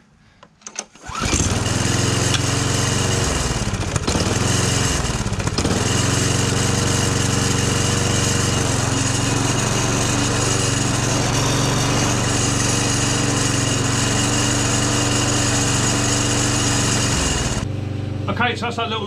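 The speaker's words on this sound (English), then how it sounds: "so that's our little lawnmower now all up and running." A small old lawn mower engine starts with a few sputters, then runs loud and steady at a constant pitch before cutting out near the end.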